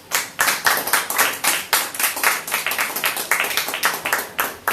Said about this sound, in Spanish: Dale palmas de alabanza al que vive.